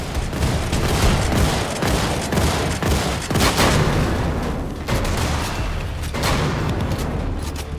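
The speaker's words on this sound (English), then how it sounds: "Thank you, shotguns." A dense, continuous barrage of gunfire in a video game, with shotgun blasts mixed into a thick layer of rapid shots and booms, loud and close and carrying on without a break.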